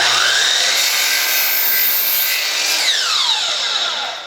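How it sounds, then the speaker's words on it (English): Power saw cutting through a 1x4 wooden board while trimming a Craftsman-style window: a loud, close whining cut lasting about four seconds, its pitch sliding as the blade passes through the wood, with no talk. "Let's go ahead and cut out our 1x4"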